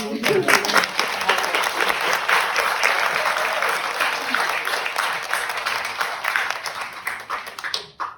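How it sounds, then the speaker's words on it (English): Audience applause for Dorothy at a grand opening of a Mississippi center: a sustained, full round of clapping from a crowd, loud and steady before tapering off, with voices under it. "I think we just need to give Dorothy a round of applause"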